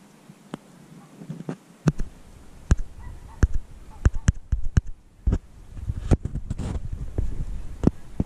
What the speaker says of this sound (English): And here are two animals, some ducks.